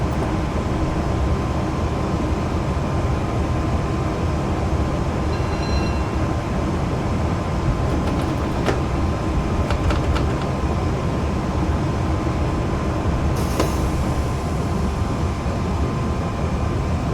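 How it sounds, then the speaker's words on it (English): A Class 370 APT train in the Train Sim 2021 game makes a loud, continuous rail roar and rumble, running unbroken for the whole stretch with no voices. "Hopefully I'm not being drowned out by the train."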